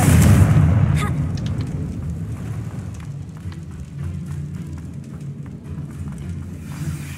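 In the Hogwarts Legacy video game, a Confringo spell explosion bursts with a loud, deep boom at the start, then fades into a low rumble with scattered crackles.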